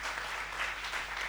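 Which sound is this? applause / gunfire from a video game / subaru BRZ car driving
applause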